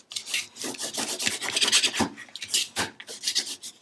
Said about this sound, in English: burnish everything into place.